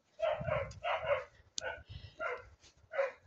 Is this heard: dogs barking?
yes